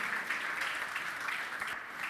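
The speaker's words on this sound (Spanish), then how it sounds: "Leti Tonetti, fuerte el aplauso para ella, de INTI." Audience applause at a livestock and environment conference in Salta, a steady, dense clapping that carries evenly through the whole stretch without a break.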